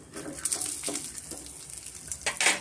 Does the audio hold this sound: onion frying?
yes